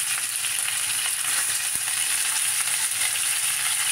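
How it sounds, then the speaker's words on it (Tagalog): Fish sizzles steadily in hot frying oil while browning for a potato and tomato fish soup, a dense, even crackle with no voices. "natin siyang iprito guys, yung fish. Para masarap. Kailangan natin siyang ipag-golden brown guys."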